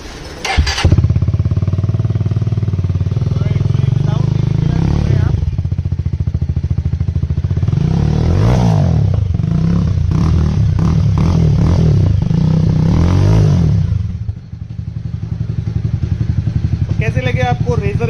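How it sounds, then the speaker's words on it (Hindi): Jawa Perak motorcycle fitted with a custom Razor exhaust, starting up then idling with a loud, deep, throbbing beat and repeated throttle blips that rise and fall, close by, settling back to idle near the end. "आज मेरे सामने है एक यूपी 16 नंबर जावा पेराक और इसके अंदर हमने लगाए हैं रेजर एग्जॉस्ट।"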